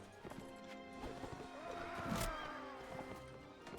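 Horse hooves clip-clop faintly in the video game Mount & Blade Warband, with a brief whinny rising midway, all quiet and distant under game sound.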